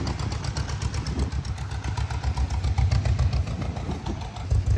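An Oliver 77 row crop tractor with a narrow front end runs steadily at a farm show, its engine chugging in a close, loud, continuous rhythm with no talk over it.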